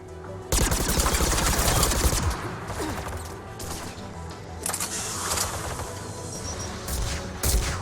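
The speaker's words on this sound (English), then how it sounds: "The Geth anti-aircraft guns are up ahead." Dense, continuous anti-aircraft gunfire from Geth guns in the science fiction game Mass Effect 3, with booming volleys and crackling bursts layered over a constant battle din, loud and sustained.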